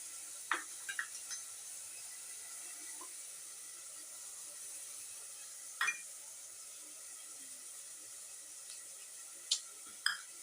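Chili powder and turmeric powder being sautéed in a pan for chicken curry, with a faint, quiet sizzle and scattered sharp clinks of a spoon against the pan.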